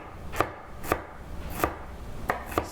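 A knife rough-chopping shallots on a cutting board, five sharp, evenly spaced thuds about half a second apart, close and crisp with no talking.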